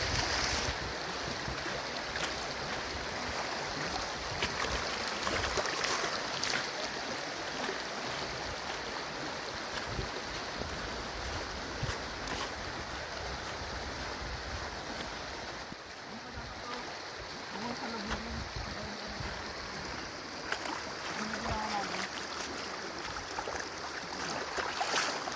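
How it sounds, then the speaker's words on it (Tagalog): Strong floodwater current in the Call of Duty video game rushes steadily throughout, a broad, constant roar of churning water with occasional splashes and faint voices beneath. "Lakas ng current ng tubig."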